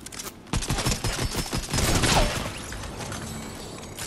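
Gunfire aimed at the player in the video game Fortnite: a rapid burst of close, loud shots in quick succession, then trailing off into quieter game ambience.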